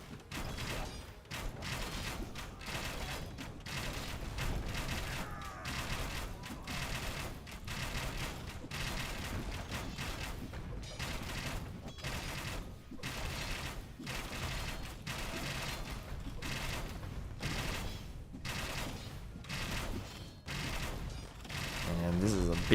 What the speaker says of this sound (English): Cannon hitting the Arbs.